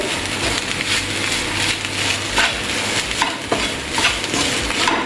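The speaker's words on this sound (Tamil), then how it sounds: "அதோடையே நாம் அந்த உருளைக்கிழங்கையும் சேர்த்துருவோம். நல்லா நல்லா மிக்ஸ் பண்ணுவோம்." Potatoes with chili powder are stirred in a pan while cooking fish patties, with steady scraping and stirring strokes over a continuous close sizzle of frying, no talking.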